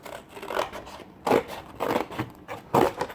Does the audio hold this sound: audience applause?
no